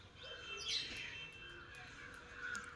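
A small bird chirps near a home, giving faint, scattered high tweets over a soft outdoor background.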